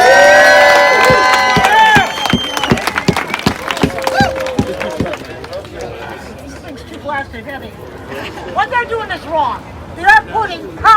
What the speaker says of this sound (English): Could you give her a big round of applause?